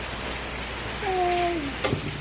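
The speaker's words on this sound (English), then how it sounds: "It is literally torrential outside" Heavy torrential rain pours onto a shed-like roof in Australia, a steady dense hiss lasting throughout, close and moderately loud, with a brief higher tone and a couple of soft knocks partway through.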